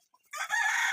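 Black Emerald and Black Korean chickens crow and cluck, a rooster's cock-a-doodle-doo starting faint and swelling to a loud, sustained call close by.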